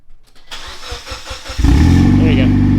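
A Mitsubishi Evo engine cranks with a rhythmic starter whir, then catches and fires into a loud, steady idle rumble, close by, with voices in the background.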